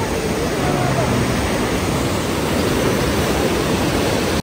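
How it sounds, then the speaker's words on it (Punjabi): A fast, powerful waterfall in New Zealand, with white water pouring down hard, gives a steady, loud broadband roar that stays constant and close, with faint voices underneath. "ਬਹੁਤ ਸਪੀਡਾਂ ਪਾਣੀ ਗਿਰ ਰਿਹਾ ਥੱਲੇ"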